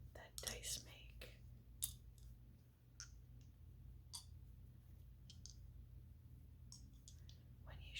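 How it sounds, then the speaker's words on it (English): Two small yellow dice rattled and shaken between hands, giving quick close clicking bursts near the start and scattered light clicks afterward, over a steady low hum with soft whispering. "I like the sound that dice make."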